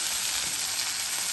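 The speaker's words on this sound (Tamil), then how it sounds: "இந்த கறி வந்து கொதிச்சு கொண்டிருக்குது." A pot of Jaffna-style green chili fry curry bubbles and sizzles close up, making a steady bright hiss with no pauses.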